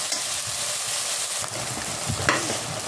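Masala for crab curry fries in a pan with a close, steady hiss and crackle, punctuated by a few brief stirring scrapes.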